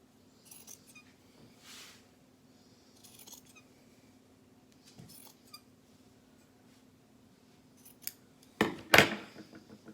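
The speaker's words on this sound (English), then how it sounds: "I'm gonna trim the fabric right around here. Just take my scissors" Scissors snip sweater fabric in a few quiet, scattered cuts, then several louder, sharper snips close by near the end.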